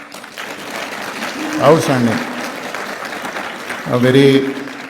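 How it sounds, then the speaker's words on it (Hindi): Crowd clapping runs steadily in the background while someone speaks over it at a course closing event, swelling briefly in two louder bursts. "एक दूसरे के लिए तालियां बजाएं प्लीज़।"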